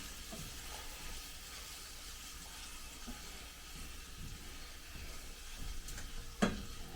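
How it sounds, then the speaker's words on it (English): Pancetta and onions frying together in a pan, a faint, steady hiss and sizzle with quiet crackles throughout and one brief clink of a utensil near the end. "Drop the pancetta in with it. Now we're going to fry this up"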